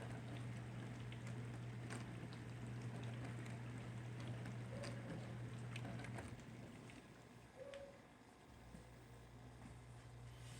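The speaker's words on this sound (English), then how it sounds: "I'm making sure that it's actually pumping the water into the sink" Whirlpool dishwasher running a test cycle after being reinstalled under the counter, its drain pump pushing water out into the sink: a steady low pump hum and water rush that cuts off partway, leaving fainter gurgling.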